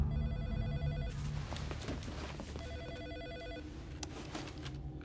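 A telephone rings in a Hindi crime thriller scene, its repeating bell bursts standing out over a dense bed of background music and ambience, steady and moderately loud throughout.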